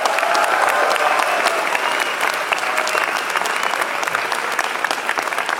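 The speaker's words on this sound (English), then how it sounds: "Let's clap it up for them." Loud, sustained applause from a large graduation ceremony audience, dense continuous clapping filling the hall with occasional faint voices mixed in.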